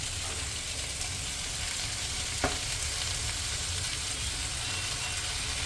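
Potatoes and chopped spinach sizzle steadily in a hot pan, a close, continuous frying hiss broken once by a brief scrape or clink, with no talking.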